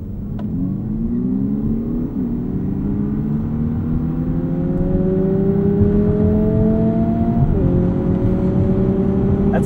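A 2023 Lexus UX 250h F Sport hybrid accelerating with a simulated engine note climbing toward 8,000 RPM, a loud steady rising drone inside the cabin with one brief dip like a shift partway through.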